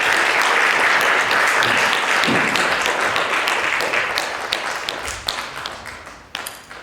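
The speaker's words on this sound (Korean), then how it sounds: "우리 고생하시는 후보자님들께 격려의 박수 한번 부탁드립니다." An audience claps for the candidates at a university presidential election debate, a dense, loud round of applause that thins and fades toward the end, with a few scattered claps at the finish.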